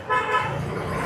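Car horn honking on a busy village main road in Gujarat, a short loud toot over the rumble of traffic.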